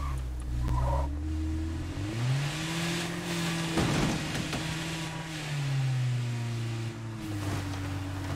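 A car engine drones and revs through a drive in the zombie survival game State of Decay 2, its pitch rising and falling steadily with no talking over it.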